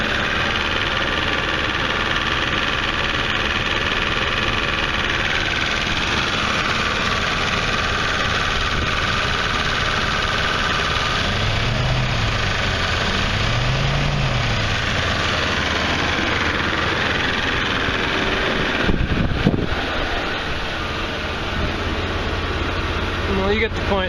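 Chevrolet S10 Blazer with a 4.3 engine and a failing head gasket runs steadily at idle, producing a loud, continuous low rumble and hum that goes on throughout, with a brief clunk near the end.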